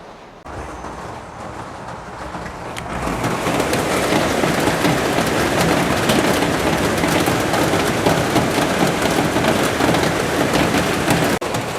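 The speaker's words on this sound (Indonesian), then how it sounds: "Nah, hujan ya teman-teman." Rain comes down hard, starting lighter and swelling within a few seconds into a loud, dense, continuous hiss of heavy downpour that stays steady without any voices.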